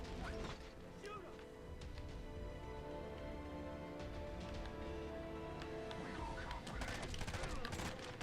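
Gunfire fills a video game firefight in repeated sharp bursts and rapid volleys, with crashes and mechanical clatter mixed in. A game score plays underneath.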